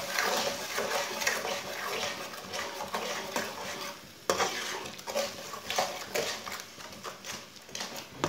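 A spoon scrapes and swirls through spices and water in a cooking pot for chana dal palak, a steady busy stirring with soft sloshing and clinks, fairly faint and continuous throughout.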